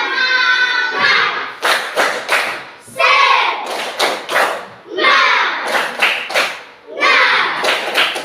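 A classroom of children standing to perform a rhythmic spirit clap (tepuk semangat) at the close of a lesson: loud patterned bursts of claps and slaps in repeating phrases, with children's voices chanting along between the beats.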